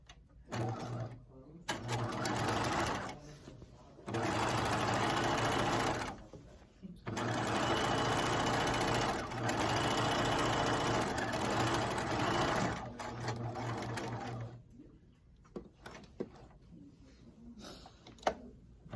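A sewing machine runs gather stitches along a skirt panel in several bursts of rapid, loud mechanical whirring separated by short pauses, close up, with softer handling sounds at the end.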